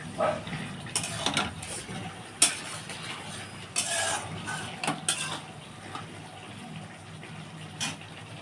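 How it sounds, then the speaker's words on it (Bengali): Fried pointed gourd pieces are stirred into spice paste in a pan, with a spoon clanking and scraping against the metal in irregular bursts over a low background sizzle. "এবারে আমি একটু কষতে থাকবো পটলটা দিয়ে"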